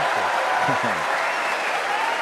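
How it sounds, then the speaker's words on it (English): A snooker crowd applauds and cheers at the 2017 Masters final, a dense, steady roar of clapping that holds loud throughout, with a few low voices briefly audible in the first second. "they're still cheering this crowd"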